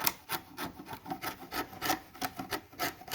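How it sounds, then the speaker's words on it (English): A hand chisel pares through soft, punky hollowed wood on a wall table, giving a rhythmic series of close scraping, rasping strokes about every third of a second, no talk. "I probably need to chisel that out"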